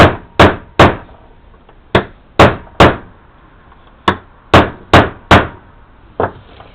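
A hammer taps a Lee bullet mold for 9x18 Makarov during repair, about eleven sharp metallic knocks in uneven clusters of two and three, loud and close with no talking.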